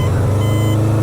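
A truck on a snowy-area road rumbles loud and close in a steady engine drone with a low, heavy tone and no break, and no voices are heard.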